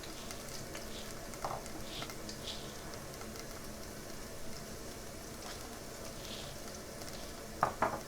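Lentils with garlic-ginger paste fry in a pan with a steady, moderate crackling sizzle, with light stirring scrapes throughout and a couple of sharp metallic clinks near the end.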